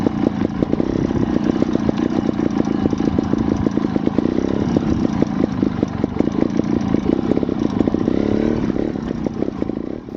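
A Scorpa 250 trials motorcycle engine revving and chugging steadily up close, with rapid throttle blips and a rough mid-pitched drone throughout, no talking.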